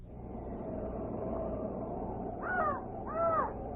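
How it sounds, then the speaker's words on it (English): Two harsh raven croaks near the end of a fairy-tale radio drama, each a short rasping call standing out over a steady background of low hum and hiss. "I only hear a raven croaking."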